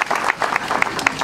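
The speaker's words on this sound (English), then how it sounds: "Let's thank God for that and give it a big clap." A reunion day gathering gives a big round of applause, dense clapping from many hands with a few sharper individual claps standing out.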